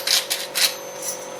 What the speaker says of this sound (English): I'm gonna grind up some of them peppers in there. Black pepper.